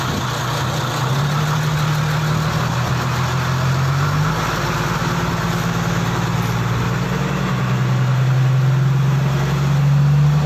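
A car engine fitted with a big turbo kit runs steadily nearby, a loud continuous low rumble and idle drone with a slight rise in pitch near the end, no talking.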